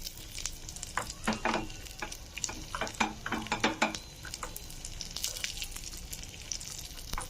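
Cashews and almonds frying in a pan for sago and vermicelli payasa, a soft crackling sizzle with quick bursts of clattering stirs in the middle, close and fairly quiet, no talking.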